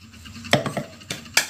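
Dry rice is tipped into a mixer grinder jar for neyyappam batter, giving three short rattling bursts of grains hitting the jar against a quiet kitchen background.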